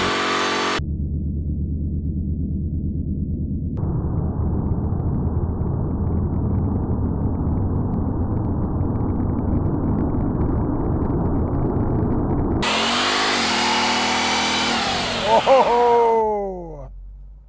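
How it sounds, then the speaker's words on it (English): A new Ford Mustang engine revs hard through a line lock burnout, a steady loud roar that builds and holds, then gives way near the end to a sharp rising whine and squeal as the rear tyres spin. "and that is line lock"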